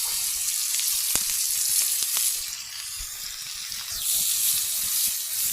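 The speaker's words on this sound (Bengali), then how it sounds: "এখন দিয়ে দেবো কড়াইতে আলু।" Potatoes coated in turmeric and salt frying in a wok over a village clay stove, a steady moderate sizzle with a few sharp spatters and stirring clicks, no talking.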